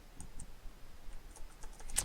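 Light tapping on a computer keyboard, a handful of quiet keystrokes spaced irregularly with a slightly firmer press at the end, faint and close with no voices.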